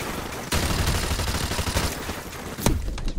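Loud, dense gunfire in Call of Duty: Modern Warfare, a steady rattle of automatic shots mixed with bursts and blasts, filling the whole moment with no break.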